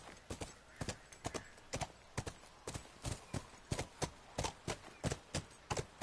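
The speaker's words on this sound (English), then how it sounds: "Oh, we're on a horse." Horse hooves galloping in The Last of Us video game, a steady rapid clip-clop rhythm of sharp hoofbeats, close and even throughout with no talk.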